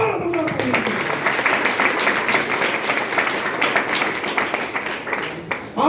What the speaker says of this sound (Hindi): हमारे MD sir mister Sanjeev sir के लिए जोरदार तालियां।